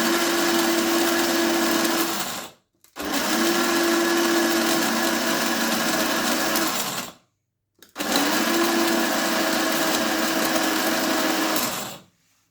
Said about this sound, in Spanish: Agregamos las semillas al molinillo. Ahora a moler.